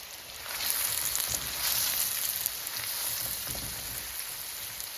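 Onions frying in a pan for American-style fried rice, a steady crackling sizzle with scattered pops, close and continuous without talk.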